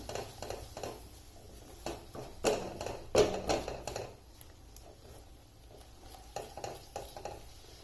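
Fried crispy sweet corn is tossed with chaat masala and green chili in a pan, soft scraping and stirring strokes coming in irregular bursts, close but fairly quiet.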